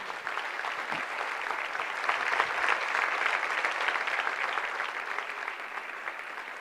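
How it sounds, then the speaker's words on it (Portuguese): A church congregation at a worship service applauds newcomers arriving at the front: steady, even clapping from many hands fills the whole stretch at moderate volume with no talk over it. "Vamos aplaudir esses queridos que estão chegando."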